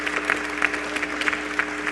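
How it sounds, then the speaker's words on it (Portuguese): Audience applause after a call for a round of clapping for the host at a Humanidade 2012 infrastructure and sustainability talk; dense, steady clapping from a crowd, fairly close, lasting under two seconds with no voices. "Uma salva de palmas para o Benjamin"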